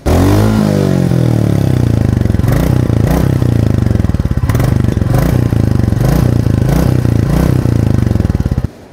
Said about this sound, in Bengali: মূলত এই সাউন্ডটা ডুক ডুক ডুক একটা সাউন্ড